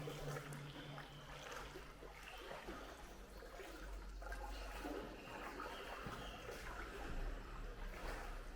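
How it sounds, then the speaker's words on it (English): Wellington boots wading through water in a disused tunnel in Oxfordshire, giving a steady sloshing and trickling wash with no pauses and no talk. "Properly wading in the water now."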